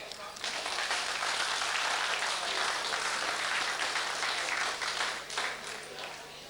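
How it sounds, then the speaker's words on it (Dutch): Audience applause at a carnival sitting evening in Horst, a broad continuous wash of clapping that holds steady and fairly loud for several seconds before easing slightly, with a faint steady hum underneath. "En dat vind ik nog een applaus waard."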